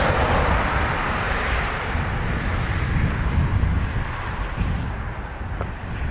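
A CASA C295 turboprop touching down at Dublin Airport with no thrust reversers deployed: steady broadband engine and rushing air roar, fairly loud and continuous throughout, with wind buffeting and no talk.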